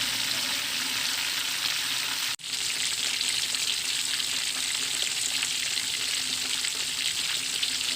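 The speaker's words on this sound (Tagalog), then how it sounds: "ito ngayon, nagpiprito na tayo" Steady, loud sizzling of pork for lechon kawali frying in hot oil, continuous crackle and hiss with one brief dropout, no voices.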